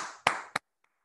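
Two sharp hand claps ring out close and alone during a skin-care product demonstration, each with a brief trailing echo, followed by silence and a faint tap.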